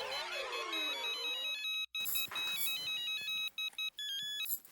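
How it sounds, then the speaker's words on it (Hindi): A phone ringtone plays a bright, repeating electronic melody of short beeping notes, loud and close, with a brief gap partway through before the tune resumes. "किसी और का भी फोन बज रहा है।"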